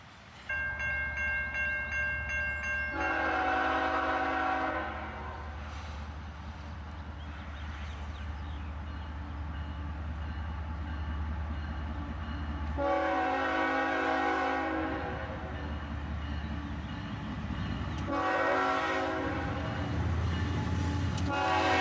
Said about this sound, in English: And a few hoppers loaded up with coal bring up the rear of the train here.